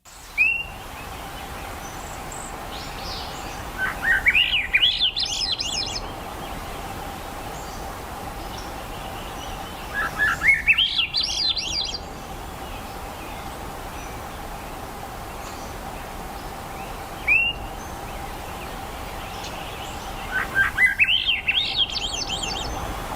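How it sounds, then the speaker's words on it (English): A Swainson's thrush sings rising, spiraling flute-like phrases in four separate bursts, spaced several seconds apart, against a quiet outdoor background with a faint steady hum. "Swainson's thrush. Is what they're called."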